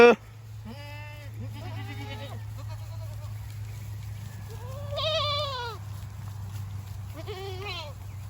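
Goats in a pasture bleat in several separate wavering calls, a few seconds apart, some nearer and louder than others, over a steady low hum.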